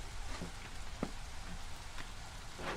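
Steady rain hiss in the settlement-building game Against the Storm, a constant wash of falling water with a few soft drip-like ticks over a low ambient bed, no voices.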